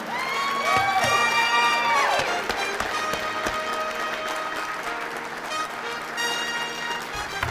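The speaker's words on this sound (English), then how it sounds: "Let's give a nice round of applause to our first inductee of the night." Steady applause from a large crowd at a sports hall of fame induction ceremony, with cheering and whistles mixed in, loud and continuous throughout.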